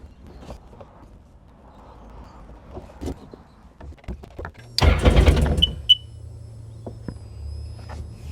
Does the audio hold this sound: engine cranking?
yes